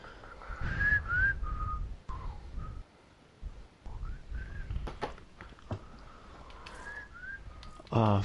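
Someone whistles a wavering, sliding tune in short phrases with pauses, fairly close and clear, over a faint background hum and a few clicks, ending with a sharp knock.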